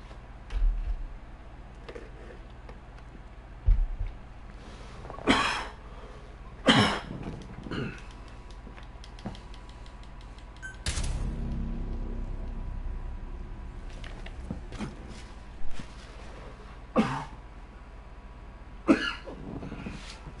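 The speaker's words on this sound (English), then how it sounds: "Sorry about the coughing fit." A person has a coughing fit, with a series of loud, harsh coughs and throat-clearing bursts at irregular intervals over quiet room noise, some closely spaced and one drawn-out rasping stretch.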